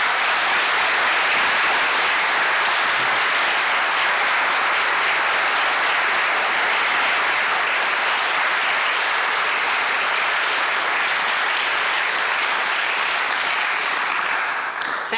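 A large audience applauds candidates at a district attorney debate, a dense, steady wash of clapping that holds loud and even for the full stretch without any talk.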